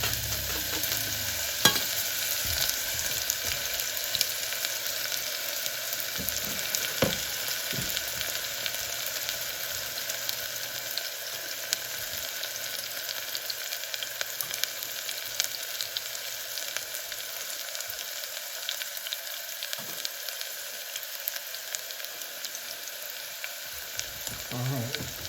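Onions and garlic fry in oil that is a touch too hot for a homemade pizza sauce, giving a steady close sizzle throughout with a few sharp stirring clinks and scrapes and no talking.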